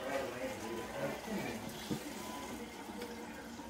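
Hawaiian Punch pours from a container into another vessel as a faint, soft liquid trickle, partly blended with low background noise.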